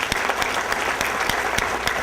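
An audience at a wine industry presentation claps for an absent data contributor, a steady, full patter of many hands with a few sharper individual claps standing out.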